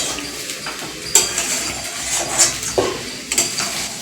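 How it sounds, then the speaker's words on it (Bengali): Pulao rice fries in a pot on a home stove while being stirred, a soft sizzle under repeated scraping and clinking of a metal spoon against the pot. "এখন পোলাও ভাজা হচ্ছে"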